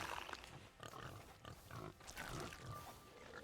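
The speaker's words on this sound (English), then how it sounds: "Pigs here." Pigs in the video game Sea of Thieves grunt and oink in a quiet, steady stream of short snorts against low ambient noise. No voices.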